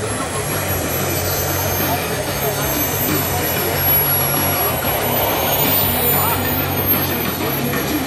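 A 2.2-metre BAE Hawk scale model jet powered by an ASX 120 turbine flies past at an airshow, its steady loud turbine whine and rushing roar filling the air continuously, with a high whistle rising and falling slightly.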